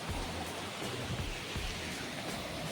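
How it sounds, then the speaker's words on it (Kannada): Water rushes through a pipe beneath a small bridge on a rainy monsoon day, a steady faint wash of noise with slight gurgling swells, heard from a short distance. "ಇಲ್ಲಿಂದ ನೀರು ಹೋಗ್ತದೆ ಇಲ್ಲಿ ಪೈಪ್ ಹಾಕಿದ್ದಾರೆ"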